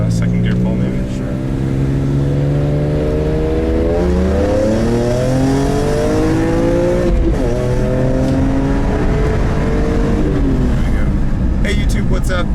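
A 2003 BMW E46 M3 accelerating hard in second gear, engine note climbing steadily in pitch through a long pull with a brief dip around a shift, loud and close from inside the car.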